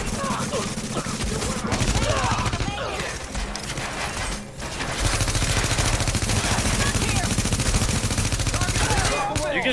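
Dense bursts of automatic gunfire rattle through a firefight in the video game The Division, loud and nearly continuous with a brief lull midway, while a voice talks underneath.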